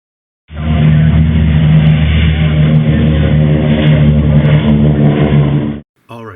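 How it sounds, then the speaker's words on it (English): Air compressor in a scale-model workshop running loud and steady for about five seconds with a constant mechanical drone, then cutting off abruptly, followed by a brief spoken voice. "Shut up, compressor."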